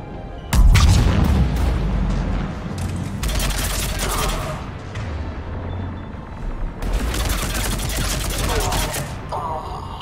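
Heavy cannon fire in the Mass Effect 3 Legendary Edition game on Omega, with loud booming bursts and crackling barrages that swell, pause and return, a low rumble carrying between the blasts.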